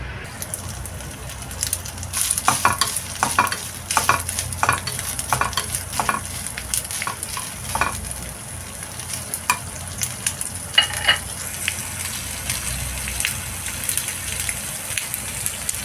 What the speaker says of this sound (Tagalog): Luto-lutuin ko na ng konti yung itlog bago ko ipatong yung ham.